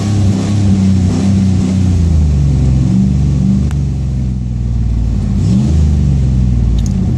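A 1999 Dodge Durango engine revs loudly and close, deep rumbling rises and falls over several throttle blips, with no talk.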